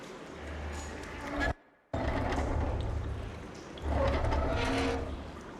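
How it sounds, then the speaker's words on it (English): Water flows through a room in the video game Horizon Forbidden West as a continuous rushing wash, broken by a brief silence before it resumes and swells a little louder. "Aloy, I can hear water in the room again"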